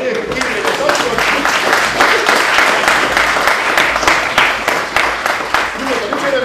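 An audience of students at a secondary school physics demonstration, where volunteers sit in the air without chairs, claps loudly and steadily, with crisp individual claps and some voices mixed in.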